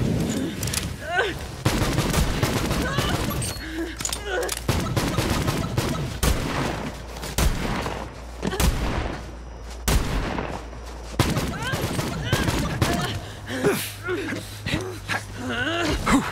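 Rapid bursts of gunfire from a weapon in the shooter game Borderlands 3, loud and repeated in uneven volleys while voices talk over much of the action.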